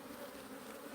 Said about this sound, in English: These bees are unpredictable.